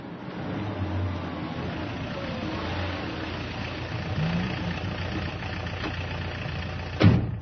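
A taxi engine idles in a steady low rumble beneath street background noise, with a brief sharp knock or thump near the end.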